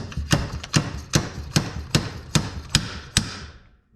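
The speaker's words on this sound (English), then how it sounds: "You want to make sure that it's nice and square before you start hammering on it." Steel seal driver hammered down a Kawasaki KDX 200 fork tube to seat the bushing: eight sharp, evenly spaced metallic strikes about every half second, close and loud, with no talk.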